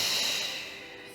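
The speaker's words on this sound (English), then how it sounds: "big breath in through the nose and exhale through pursed lips" A single breath exhaled slowly through pursed lips during a Pilates lower-oblique exercise, a soft airy hiss close to the mic that fades over about a second.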